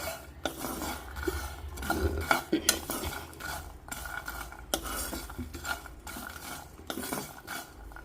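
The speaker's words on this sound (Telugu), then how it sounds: "ఇప్పుడే చిట్చిటా చిట్చిటా అంటున్నాయి నువ్వులు" Peanuts and sesame seeds roast in a pan for sweet laddus, giving steady close crackling with repeated scrapes and clinks of a spoon stirring against the metal.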